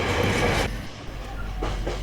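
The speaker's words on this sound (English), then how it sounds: "the constant freight train and passenger train noise for those that live nearby" A freight or passenger train passes through Trimley railway station, a close, loud, continuous rumble with rhythmic wheel clatter and faint squeal over two seconds.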